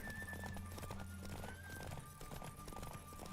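The Witcher 3 video game: the horse Roach's hooves clip-clop steadily at a gallop, a whinny mixed in, with game music and ambience running throughout and no voice over it.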